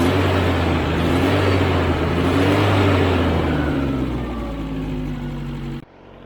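A Geo Tracker engine, recently repaired and with slight hesitation on throttle, revs up and holds a mid-pitched drone before easing off and cutting to near silence at the end, loud and close with no speech.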